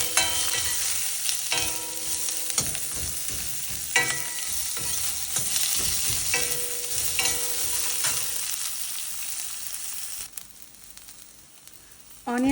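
Chopped onion, green chili and curry leaves sizzle in a hot pan, with scraping stirs at intervals, steady frying hiss that fades near the end; no one talks.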